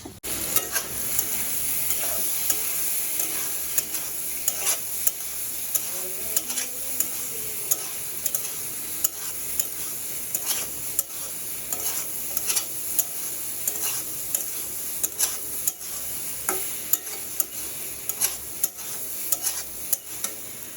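Potatoes frying with spices in a pan for a vegetarian home dish, a continuous close sizzle under repeated scraping and clicking of a spatula stirring against the pan.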